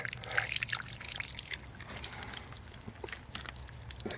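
Water trickling and splashing from a small makeshift waterfall fed by underground water coming out of a hillside; a soft, steady outdoor babble heard alone at moderate distance.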